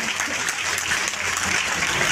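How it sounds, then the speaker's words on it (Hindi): Loud, dense applause from a political rally crowd in Ghosi welcoming a speaker, steady clapping filling the whole stretch with no voice on top. "जोरदार ताली बजा के स्वागत करिए"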